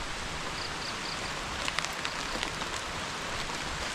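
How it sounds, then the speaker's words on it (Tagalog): Light drizzle on a farm during the plowing season, a steady soft hiss of fine rain with a few faint drip ticks partway through, low and even, no voices. "Hindi masyadong malakas yung ulan, maambon lang."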